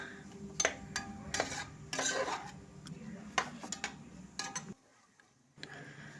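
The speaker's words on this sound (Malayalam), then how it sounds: "എന്നിട്ട് നല്ല രീതിക്കൊന്ന് ഇളക്കി കൊടുക്കുക." Rice mixed with turmeric, salt and biryani masala is stirred in a pot: scattered scraping and clinking strokes of a utensil, close but soft, then a short quiet gap before one more scrape.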